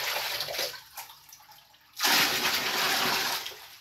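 Tap water runs into a container, a faint trickle at first, then a loud steady gushing stream that continues to the end.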